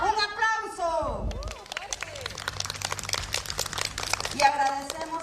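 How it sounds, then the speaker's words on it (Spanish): Students at a school clap together in a dense patter of hand claps following a shouted call, with voices speaking before and after over the applause. "¡Un aplauso!"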